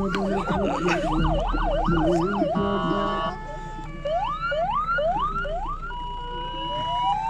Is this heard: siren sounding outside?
yes